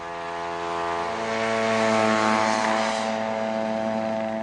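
An unmanned spy plane flies a routine flight over Iraqi positions in southern Kuwait, its propeller engine a steady droning hum with strong harmonics that swells slightly as it passes and then eases off, with no voices.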